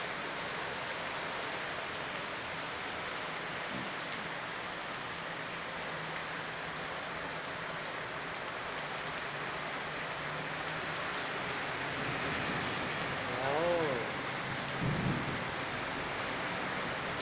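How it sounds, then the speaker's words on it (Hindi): Heavy downpour in Taif pours as a steady, loud hiss throughout, with low rumbles of thunder rolling in near the end. "हर जगह से रास्ता बंद हो पड़ा है और बारिश बहुत ज़्यादा है।"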